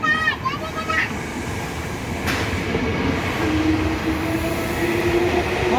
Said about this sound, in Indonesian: Tuh jalan tuh kereta jalan